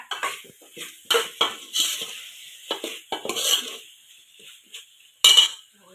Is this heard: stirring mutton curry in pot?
yes